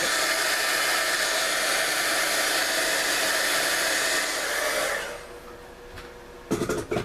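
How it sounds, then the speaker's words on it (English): A heat gun blowing over a handmade card, a loud steady whooshing hiss for about five seconds that drops away to quiet, followed by a few light clicks and taps. "Now I'm going to bring in my heat gun again. I'm going to get these to dry."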